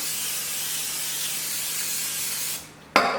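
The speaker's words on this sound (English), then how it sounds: "I like to take the butter spray and spray over the top of them" A continuous close hiss of an aerosol butter spray held for a few seconds, stopping abruptly, then a brief short burst at the end.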